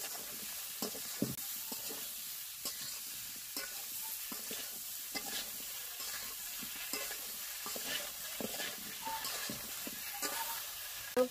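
Young jackfruit sizzling in a pan with cooked-down spice paste, a steady close frying hiss broken by scraping stirs.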